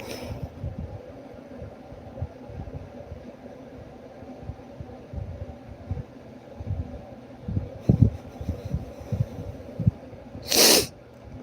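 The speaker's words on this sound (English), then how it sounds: "I got to sneeze, hold on." A single sharp sneeze bursts out near the end, preceded by a quieter, breathy catch, over a low steady background hum.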